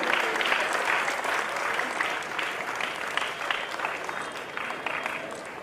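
Loud, sustained applause from a crowd honouring a guru, Sri Subudhendra Tirtha Swamiji, at a gathering in Raichur, with dense clapping holding evenly throughout.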